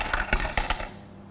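Rapid clattering clicks and rattles of coins tumbling through a machine, in a few short bursts that thin out and fade near the end.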